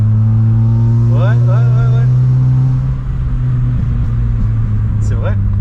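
Peugeot 106 Quiksilver with a cone air intake, its engine holding a loud, deep, steady drone close by while short whining pitch sweeps rise over it, and people talk beneath.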